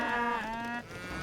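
Livestock in the Age of Empires III video game give a drawn-out, wavering bleat or low call, steady and moderately loud over a faint game background.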